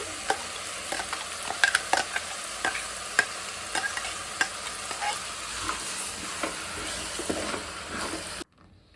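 Ground masala paste goes into a hot pan for a minced-meat (kaima) and field-bean sambar, giving a steady close sizzle broken by repeated scraping stirs of a spoon, with no voices.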